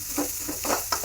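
Chopped onions sizzle in a pan with only a little oil while being stirred for an Andhra-style gongura chutney, giving several quick scraping bursts over a steady frying hiss.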